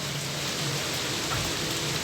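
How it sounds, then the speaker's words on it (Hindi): Steady rain falling on a hot day, a dense continuous hiss of drops on surfaces with a faint low rumble beneath, even and unbroken throughout, with no voices. "अच्छी गर्मी पड़ी और फिर बारिश स्टार्ट हो गई"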